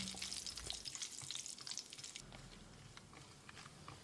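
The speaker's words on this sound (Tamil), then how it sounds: "இது செவக்கிற அளவுக்கு வறுத்துக்கலாம்." Steady crackling sizzle of cashews frying in hot oil in a pan, close up, with scattered pops and a faint stirring clatter, no talking.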